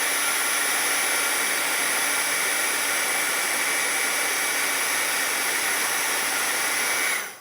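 A hair dryer blows steadily on wet watercolor paint on a toucan painting, giving a loud, continuous airy roar with a faint whine that runs unbroken for the whole stretch and then cuts off at the end.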